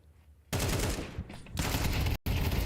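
Pistol gunfire in a Counter-Strike match crackles in dense, loud bursts, broken by a brief pause near the end.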